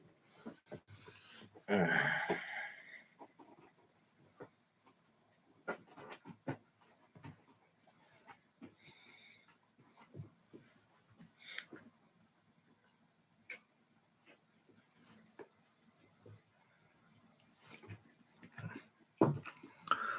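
A dog pants and snorts close to the microphone during a snowed-in home stream, with quiet breaths and occasional louder puffs that come and go, and faint background sound.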